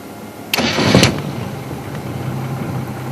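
A car's engine starts on a game drive where Mapogo lions were seen after killing a lioness: a short cranking whir, then the motor catches and settles into a steady, fairly close idle.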